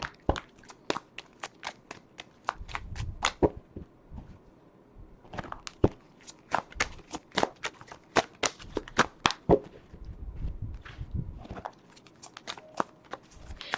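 Tarot cards are cut and riffled repeatedly, giving sharp papery snaps and flutters in quick rhythmic bursts with a few soft pauses, close and fairly quiet, with no voice.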